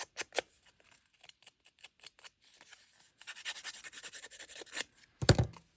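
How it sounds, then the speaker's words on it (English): Small purple scissors snip paper for a junk journal, a string of quick close crisp cuts followed by a stretch of rustling and scraping and a louder thump near the end. "I'm going to get my little purple scissors"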